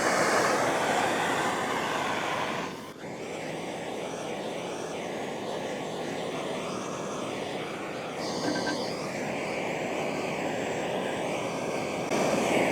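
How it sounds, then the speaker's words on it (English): A MAP gas torch roars steadily while heating a stainless steel pump shaft, a loud continuous broadband hiss that briefly dips and shifts tone partway through before resuming at full strength. "I'm gonna heat it up with a map torch and see how that goes"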